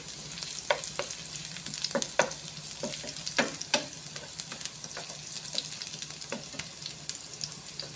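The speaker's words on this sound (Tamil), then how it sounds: "ஸோ இஞ்சியை நம்ம நல்லா கோல்டன் ப்ரௌன் ஆகிற வரைக்கும் நல்லா வறுத்து எடுக்கணும் எண்ணெயில்." Ginger frying in oil until golden brown, a quiet continuous sizzle broken by frequent sharp crackles and light spatula scrapes, close by with no voices.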